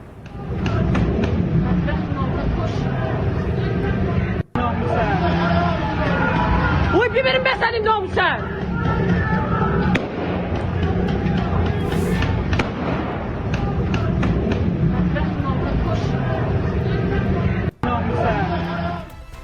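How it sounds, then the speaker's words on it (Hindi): A loud, dense crowd of angry protesters in Iran roars and shouts continuously, with sharp bangs of gunfire and thuds cutting through the agitated noise. "सुनिए इस शोर को, कैसे लोग वहां नाराजगी दिखा रहे हैं"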